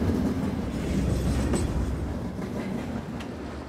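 A passenger train runs along the tracks near Nagpur, a loud, close rumble with wheel clatter and faint squeals over a steady roar that continues throughout, with no talk.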